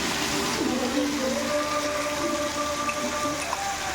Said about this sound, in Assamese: এতিয়া মাংসটো গোটেই ফ্ৰাই হ'ব লাগিব